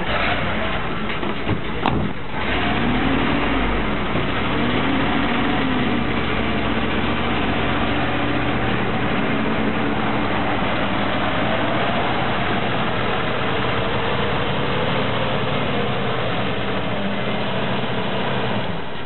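A 1980 Dodge W300 fire truck's heavy engine idles at length with a steady low rumble and rattle, a brief clank near the start, and faint voices underneath.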